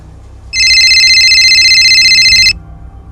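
A phone call rings out unanswered as a loud electronic ringtone that sounds for about two seconds in a quiet room and then stops.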